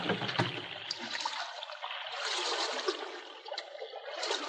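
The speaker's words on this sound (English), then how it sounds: "The two men paddled steadily without speaking" Canoe paddles dipping in water as a radio drama sound effect, soft splashing and trickling strokes with brief watery swishes, faint and continuous.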